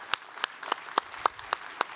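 Applause at a GLOBSEC forum stage for a European Commission president, heard as a run of crisp, evenly paced individual claps, fairly close and prominent.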